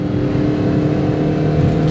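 A Maruti Swift with the 1.3 DDIS diesel engine pulls hard in third gear, its steady, loud engine drone close up and unbroken, with no talk over it.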